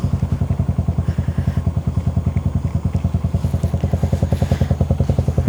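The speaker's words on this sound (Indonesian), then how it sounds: "alhamdulillah motor gampang hidup ya" A motorcycle engine idles just after starting, with a rapid, even thumping pulse that is loud, close and unbroken, with no voices.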